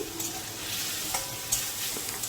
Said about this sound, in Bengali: দেখুন আমি অল্প অল্প করে দুবারে জল দিয়ে মশলাটাকে ভালোভাবে কষিয়ে নিচ্ছি